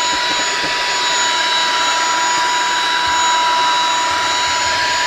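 A Honiture H206 handheld vacuum cleaner runs in normal mode with a loud, steady, close whirring roar and a thin tonal whine that holds constant throughout.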